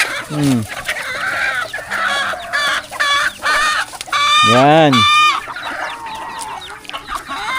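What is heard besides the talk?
chickens clucking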